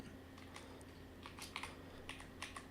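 Typing on a computer keyboard, a run of quick light key clicks in irregular bursts over a low steady room hum, fairly faint and close.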